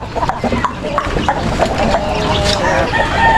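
Chickens cluck nearby in a busy barnyard, short repeated calls over steady background noise and a faint hum.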